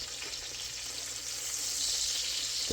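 Chicken fried cubed steak sizzles continuously in a pan, a steady, bright frying hiss that swells slightly toward the end, close up and with no voices.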